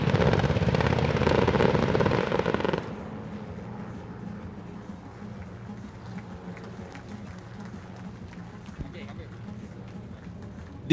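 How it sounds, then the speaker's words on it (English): MD-530G scout attack helicopter engaging targets during a live-fire exercise, its rotor drone loud and steady for a few seconds, then dropping to a fainter, distant hum with occasional sharp pops. "it's the MD-530G Scout attack helicopter engaging targets number 7 and number 8 to destroy the remaining enemy"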